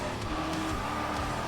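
Supercar in Test Drive Unlimited bouncing down a rough, potholed road, a rumbling engine note with jolting tire noise, loud and close, no speech.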